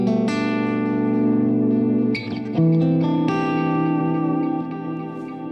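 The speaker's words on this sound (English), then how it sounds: "clean with a lot of ambient reverb." Clean electric guitar chords ring out through a double pedalboard into a Hughes & Kettner Nano amp, drenched in lush ambient reverb. The chords change a few times and each sustains loudly in a long, shimmering wash.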